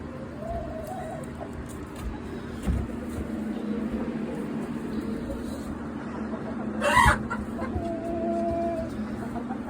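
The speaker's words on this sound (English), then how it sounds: "Hi there, pretty chicken. You're looking rough today." Backyard chickens at a coop in the morning, steady low clucking and fowl calls throughout with a brief louder squawk near the end, moderately close, mixed with some faint background murmur.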